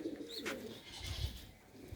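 Soft, low cooing of pigeons in a short run, with faint chirps and light background noise.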